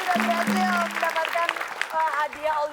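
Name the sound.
studio audience applause for team B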